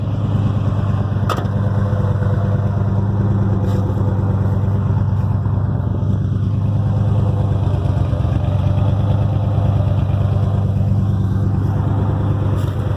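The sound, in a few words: Ford Bronco engine idle with exhaust leak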